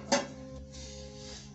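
A cooking pot is set down into a Ramtons rice cooker: one short metallic clunk near the start, then a faint lingering ring over quiet room hum.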